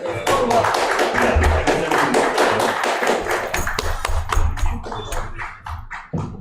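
Students applauding at a college event in Bhubaneswar, a lively crowd of many hands clapping together, dense at first then thinning to scattered claps, with talk underneath.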